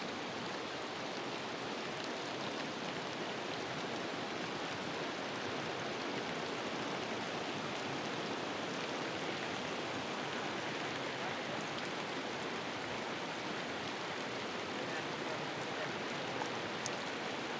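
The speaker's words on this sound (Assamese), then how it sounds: "বৰষুণ গিৰি আছে" Rain falling steadily as a dense, even hiss that stays constant throughout, soft and with no voices.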